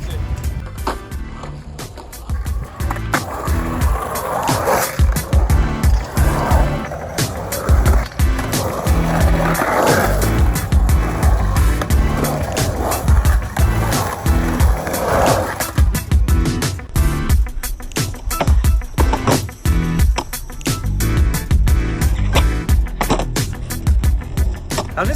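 Skateboard wheels rolling over pavement with a continuous gritty rumble, broken by sharp clacks and knocks from the board, close and loud throughout with no speech.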